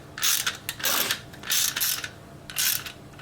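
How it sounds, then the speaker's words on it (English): A clutch spring compressor tool on a Vespa PX is unwound and removed, giving three or four close bursts of ratcheting mechanical clicks with short pauses between, alone with no talking. "And now we have to take out the compressor tool."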